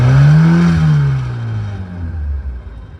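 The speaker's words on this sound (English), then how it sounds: "Yeah, you can hear that exhaust note." The deep exhaust of an Alfa Romeo 115 Spider Veloce S4 burbles loudly as the engine revs, its low growl easing off and settling into a steadier rumble.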